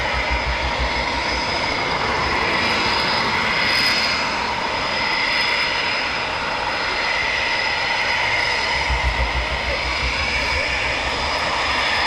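A Eurofighter Typhoon jet taxiing out at night at RAF Coningsby, its engine a loud, continuous roaring whine that holds steady and close throughout.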